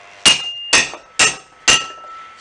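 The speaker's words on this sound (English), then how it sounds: "smack them with a hammer, not my hand, with a big hammer, like that." Four heavy blows from a big hammer strike metal motor mounts at a steady, even pace, each a sharp ringing clang that fades quickly, close and loud.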